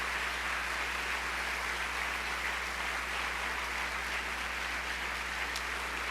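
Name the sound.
audience applause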